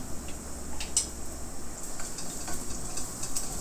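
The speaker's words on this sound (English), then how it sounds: "Then fry the garlic." Garlic frying in a hot pan for a cheap fried rice with eggs, giving a steady, moderate sizzle with faint stirring clicks and no voices.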